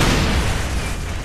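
A rocket launcher explosion in the video game Call of Duty: World at War, heard as a loud, dense, rumbling boom that fills the whole moment and then slowly trails off.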